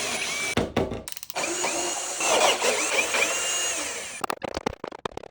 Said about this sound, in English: I had to go back with a big drill bit and countersink the T-nuts.